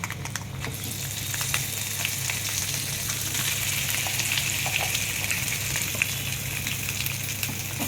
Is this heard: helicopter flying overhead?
no